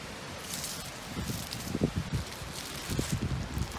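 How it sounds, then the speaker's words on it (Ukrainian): Gusty wind near cliffs roars and buffets steadily across the whole stretch, with rustling and rumbling bursts rising and falling. "Поблизу скель дуже сильний вітер."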